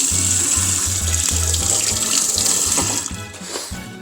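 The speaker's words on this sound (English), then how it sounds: "Okay, I actually did wash my hands, both hands" Tap running steadily into a kitchen sink while hands are washed, a loud continuous rush of water with uneven splashing that eases slightly near the end.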